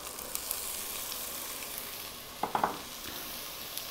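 Garlic with salt and black pepper sizzles softly in a pan for a vodka sauce, a faint, steady hiss broken by a brief cluster of spoon-against-pan knocks as it is stirred.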